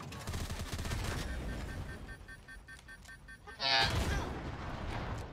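Gunfire from the video game Fortnite, Chapter 3 Season 2: repeated shots run through the first half, then a louder burst lands near the four-second mark, with game sounds going on around it.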